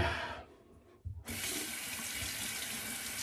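Hot water runs from a tap onto a shaving brush, a steady broadband splash that briefly drops away and then resumes full and close.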